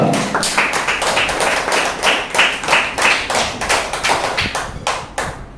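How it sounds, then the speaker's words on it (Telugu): A church congregation claps loudly in a fast, rhythmic unison beat, many hands striking together close and full for several seconds, the pattern loosening and thinning just before it stops. "చప్పట్లు కొద్దామా ప్రియులారా గట్టిగా గట్టిగా"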